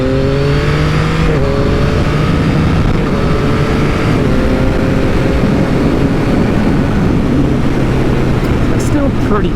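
A Yamaha MT-09 motorcycle accelerates hard in ride mode 4, the engine note rising through several gears with brief dips at each shift, loud and close under constant wind roar.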